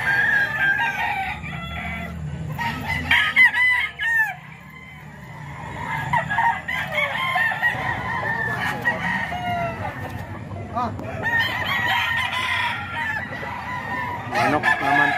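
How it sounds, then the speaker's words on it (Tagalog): Several roosters owned by Kuya Joseph at a gamefowl gathering in Bocaue crow repeatedly, overlapping one another, with clucking and a busy crowd murmur beneath throughout. "Ayan, mga manok to ni Kuya Joseph mga ka-idol."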